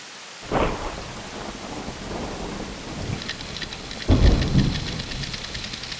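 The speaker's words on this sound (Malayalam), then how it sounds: "ഓ, ഇത് എപ്പോ തുടങ്ങിയതാ ഈ മഴ?" Heavy rain pours steadily in a Malayalam film scene, with a loud crack of thunder near the start and a deeper, louder rumble later; no one speaks.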